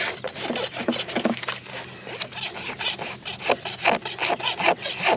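A new farrier's rasp files a horse hoof during a maintenance trim on fast-growing hooves, producing close, loud rhythmic scraping strokes, each a gritty rasping burst repeated in quick succession without talk.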